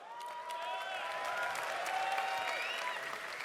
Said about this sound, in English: That's how you pause for applause, boys.